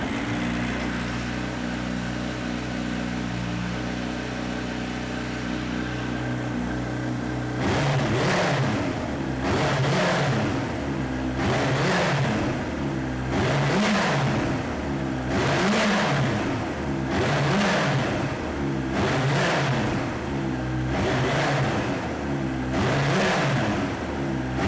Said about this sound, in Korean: 비트 머플러의 배기 사운드 한번 들어보고요